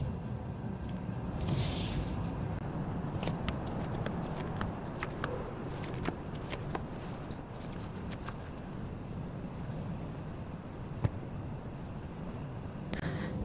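Tarot cards shuffled and drawn by hand, a steady soft papery rustle with scattered light flicks and taps, close and continuous, with no talking.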